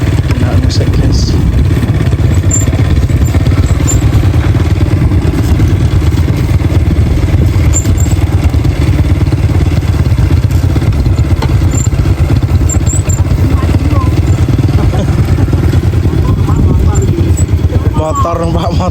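A motorcycle engine runs continuously, loud and close, with rattly clatter from a worn old machine being towed by another motorcycle, while voices talk over it throughout.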